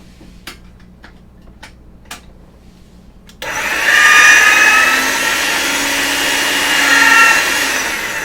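A craft cutting machine cuts Valentine's jewelry and decoration pieces, starting with a few sharp ticks and clicks, then a loud steady whirring motor hum that swells slightly near the end.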